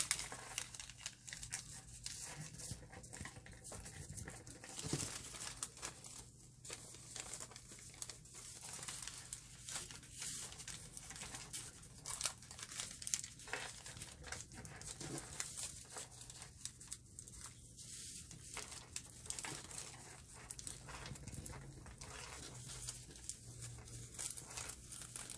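A paper doily is folded into an envelope for a junk journal, giving steady soft crinkling and rustling paper handling throughout, close and moderately quiet, with small crisp crackles and brief taps between folds.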